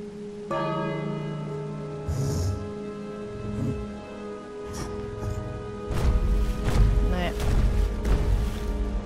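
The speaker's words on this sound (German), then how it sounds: "Ich werde nochmal das Glöcklein läuten." A small bell rung in the video game King's Quest: a clear tone with long ringing overtones starting early and sustaining, while voices talk over it and louder thumping game sounds build in the latter half.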